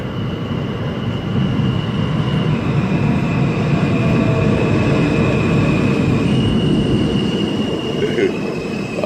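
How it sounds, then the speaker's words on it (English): A New York City Q subway train rumbles steadily into a station, a continuous heavy roar with faint wheel squeal and hum throughout, close and loud. "And we got a Q train pulling in."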